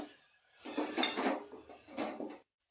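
A spoon scraping and clinking against a cooking pot while tomato puree and tamarind are stirred into rasam, two short bursts of stirring, close and fairly soft.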